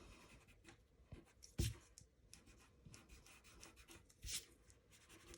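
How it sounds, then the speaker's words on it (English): An eraser rubs out pencil sketch lines on paper with soft, close scrubbing strokes and a couple of sharper scuffs, quiet and uneven in rhythm. "by rubbing out some of those mistakes"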